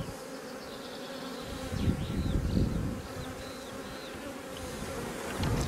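Honeybees buzz around an open hive kept by an amateur beekeeper, a dense droning hum with individual bees whirring past close by, swelling louder in the middle and again at the end.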